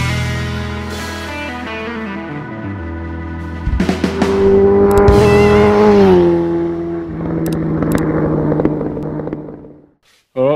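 A Suzuki GS1000 motorcycle engine cranks and fires up, its note rising and wavering unevenly before dropping off near the end, loud and close throughout.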